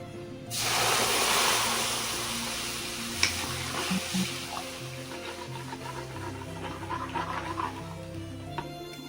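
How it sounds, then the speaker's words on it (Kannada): Milk being stirred into a white sauce of butter and flour for pasta in a pan, a loud sizzle bursting as it starts, then steady scraping stir strokes over a softer simmering hiss. "ಮಿಲ್ಕ್ ಆ್ಯಡ್ ಮಾಡ್ಕೊಂಡ್ಮೇಲೆ ಇದನ್ನು ಹಿಂಗೆ ತಿರುಗಿಸ್ತಾ ಇರಬೇಕು"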